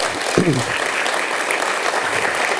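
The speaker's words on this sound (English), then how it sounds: "Give Dan a warm applause." Brief applause from a panel-discussion audience welcoming a speaker, a steady wash of clapping heard throughout with a voice briefly cutting in near the start.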